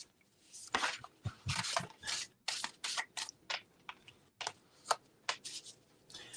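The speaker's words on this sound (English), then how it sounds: "Ooh, I love the way this shuffles." Tarot cards being shuffled in quick riffling bursts, a rapid series of crisp flutters and snaps, close and fairly quiet, with no talking.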